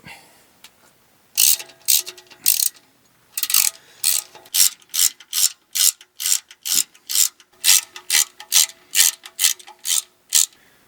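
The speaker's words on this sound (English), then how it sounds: "I'm going to take all of the nuts and bolts off, and we're going to try and get the pan freed up" A hand ratchet removing the oil pan nuts and bolts on a 2015 Toyota RAV4 clicks in quick repeated bursts, close and crisp, settling into a regular back-and-forth rhythm of stroke after stroke.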